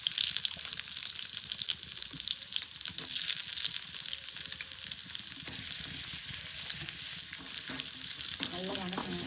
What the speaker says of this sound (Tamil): அடுத்தது வெங்காயம் போட்டுக்கணும்.